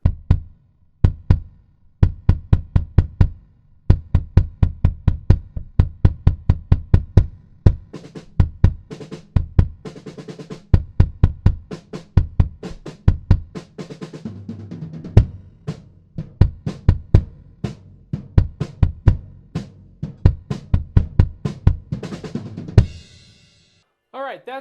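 Bass guitar played through a small MXL Guitar Cube amp and picked up by a Peavey PVM328 mic, a steady run of punchy, plucked low notes in a driving rhythm, close and loud, with no talking.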